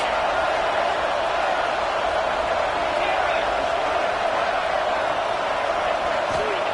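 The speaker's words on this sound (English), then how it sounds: "this crowd is bringing down the house." A football stadium crowd roars steadily through a tense third-down play, a dense, continuous wall of cheering that holds at full loudness throughout without a break.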